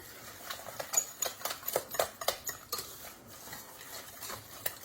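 A spoon scrapes and knocks around the inside of a metal pot while choux pastry dough is worked after adding eggs, producing irregular close clacks and scrapes with no talking.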